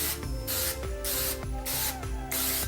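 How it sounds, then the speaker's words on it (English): A hand-pumped spray bottle mists loaves of bread in repeated hissing bursts, evenly spaced and close, with a steady low hum underneath. "When you spray it, go back and forth and turn it just to make sure you don't leave any"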